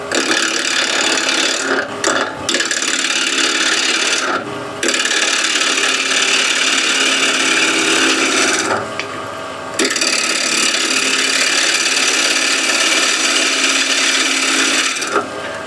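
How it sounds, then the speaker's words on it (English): An asymmetric spindle gouge cuts wood spinning on a lathe at about 1000 RPM, giving a steady, loud, broadband scraping hiss with a few brief pauses where the tool lifts off the piece. "So here I'm going to use this asymmetric spindle gouge, and the speed is roughly 1000 RPM"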